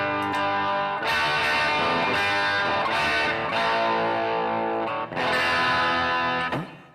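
Electric guitar run through a NUX DeepImage amp model with EQ, playing sustained distorted chords and notes that ring out loud and steady, with brief breaks near one and five seconds before fading at the end.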